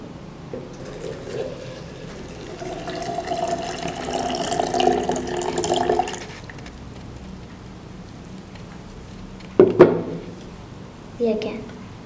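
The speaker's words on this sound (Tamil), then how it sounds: "நெக்ஸ்ட்டு நம்ம இந்த டெண்டர் கோகோனட் வாட்டரை இதில் ஊற்றிடலாம்." Tender coconut water pours into a bowl for a palm fruit drink, making a steady splashing stream for a few seconds, then a couple of short clinks and knocks.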